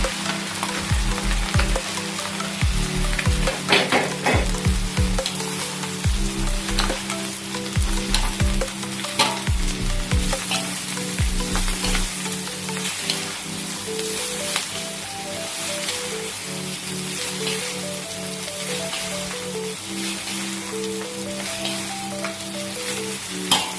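Soaked bihun rice vermicelli fries in a hot pan for a weekend breakfast, sizzling steadily and close up while a spatula scrapes and tosses it in repeated strokes, with a faint musical tone running underneath.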